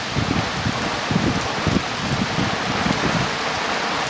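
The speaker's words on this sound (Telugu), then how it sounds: "చూసారు కదా ఇంత మాత్రం వాన తోటలలో" Heavy rain pours steadily over a farm garden with wind, a dense continuous hiss with faint low rumbles beneath, no voices.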